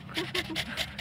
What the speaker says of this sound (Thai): ขอบคุณน้องกิกี้มากวิ่งจนเหนื่อยเลยแหกหอบ